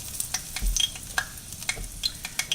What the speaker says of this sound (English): Okay, set it in the pan.